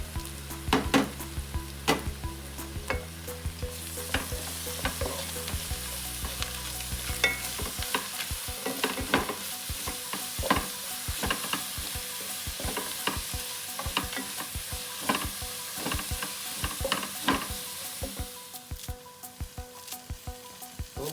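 Ginger and garlic frying in oil in a cooking pot for white chicken biryani, with a steady sizzle and rhythmic clinks of a spoon stirring throughout.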